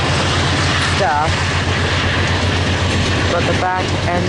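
VIA Rail train 88 with locomotive 6408 rolls past on a December evening, a loud steady rumble with rhythmic wheel clatter and brief squealing tones throughout, under faint background voices.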